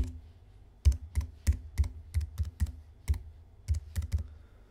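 Keys on a computer keyboard clack in a short, irregular burst of about a dozen crisp, close strikes, with a brief pause midway, against a quiet room background.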